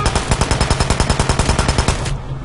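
Automatic gunfire in the video game Hitman Absolution: a loud, close, rapid burst of evenly spaced shots lasting about two seconds before cutting off.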